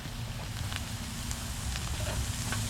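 Sausage sizzling over a campfire, a steady crackling hiss with low rumbling fire noise beneath, continuous and close, with no voices.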